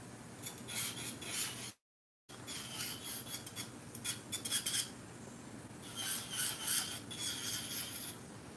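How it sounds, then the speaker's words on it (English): An electric nail drill files nails in a nail salon, a steady raspy grinding that runs in bursts with one brief dropout, close and fairly loud with no talking. "But yes, I love this drill."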